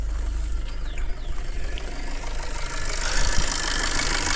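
A used 2015 Maruti Suzuki Ritz VDi diesel engine idles with a steady, low, close rumble and a faint high hiss, with no voices.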